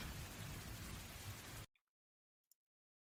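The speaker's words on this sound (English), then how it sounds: "Well, I can definitely hear rain." Steady rain hiss fills the first second and a half, broadband and fairly loud, then cuts off abruptly into near silence broken by a couple of faint clicks.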